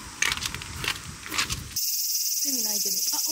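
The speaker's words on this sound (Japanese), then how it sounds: "セミ鳴いてる" Continuous high, buzzing cicada song at a Buddhist temple grounds in Kawachinagano, Osaka, starting partway through after a stretch of voices and footsteps, then steady and fairly loud with a short voiced sound beneath it.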